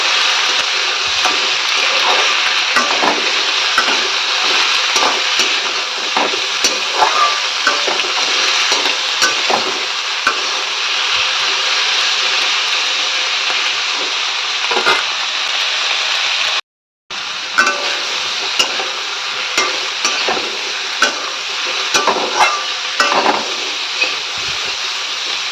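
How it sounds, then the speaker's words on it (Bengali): Prawns fry and are stirred in a pan, giving a steady, loud sizzle with scraping spatula strokes throughout and one brief cut to silence midway. "মাছটাও দিয়ে দিলাম, তাহলে একটু ভাজা ভাজা হয়ে যাবে এর সাথে।"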